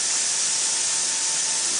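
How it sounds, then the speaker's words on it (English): Spray machine shooting thick, lightweight hot pipe coating: a steady, loud, unbroken hiss of pressurized spray with no breaks, close by and alone. "it has no problem spraying through this machine"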